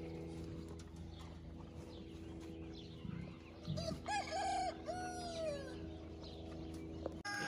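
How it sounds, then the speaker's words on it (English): On a beef cattle farm, a rooster crows loudly nearby around the middle, with chickens clucking and a steady low hum running throughout. "The chickens are out."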